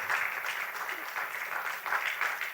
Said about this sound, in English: this team deserves a huge round of applause